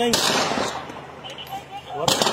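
A sharp machine-gun shot cracks near the start, then another burst near the end, with a voice talking in between, in La Matanza.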